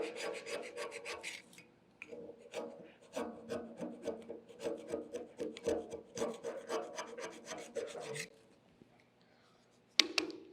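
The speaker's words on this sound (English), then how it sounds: "you can tell that it's hard to scrape off. Have to push really hard." Rhythmic, forceful scraping of a tool across cold rolled steel to remove weld spatter, repeated strokes for about eight seconds before stopping, then a single sharp click.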